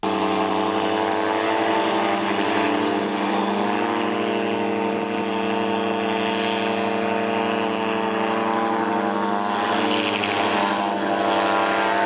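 A mini airboat's engine and propeller drone loudly and continuously as the boat drifts sideways across ice, a strong steady buzzing roar with slight pitch wavering and no voices.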